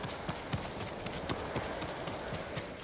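Horse hooves in the Ghost of Tsushima game, on Iki Island, clip-clop in a fast, even galloping rhythm with moderate loudness against faint ambient background.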